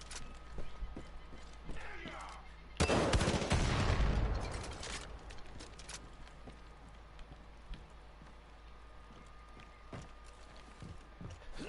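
A rocket launcher fires in the Far Cry 5 Arcade mode, one loud whooshing blast that rolls off into a fading roar, followed by scattered distant gunfire and game noise.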